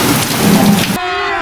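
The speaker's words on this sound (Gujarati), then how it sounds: "એટલો વરસાદ પડ્યો" Heavy rain pours down in a thunderstorm during unseasonal village weather, a dense steady roar for about a second before it cuts abruptly to a quieter, different scene with a faint tonal hum.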